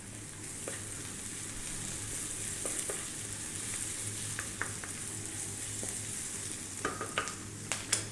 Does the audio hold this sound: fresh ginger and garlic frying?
yes